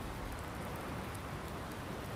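Steady rain in Landwirtschafts-Simulator 19, a dense, even hiss of falling drops with no pauses or other sounds, moderately quiet throughout.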